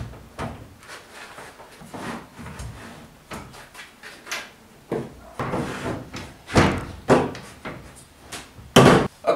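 Wooden planks knocking a table saw base into place on a workbench, a series of sharp hollow knocks and thumps in irregular bursts, close and fairly loud, growing stronger toward the end.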